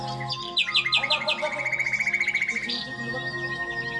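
Small birds chirp and tweet close by at morning, with rapid repeated trills and short bright calls rising over a steady background hum.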